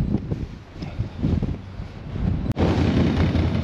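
Strong winter wind buffeting the microphone on an exposed hilltop during an ATV ride, loud rumbling gusts with a brief dropout, then a steady roar.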